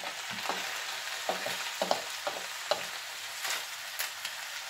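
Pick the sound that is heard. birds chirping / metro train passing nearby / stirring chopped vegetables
stirring chopped vegetables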